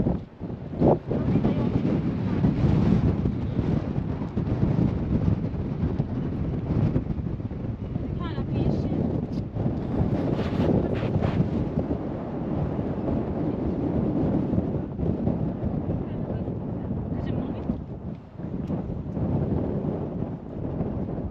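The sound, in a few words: strong wind on mountain top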